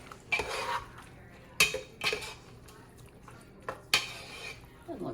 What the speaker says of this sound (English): And we'll stir this up and see where we're at.